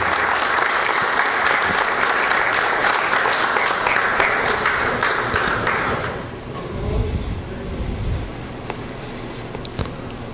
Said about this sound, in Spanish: le respondemos con estas fuertes palmas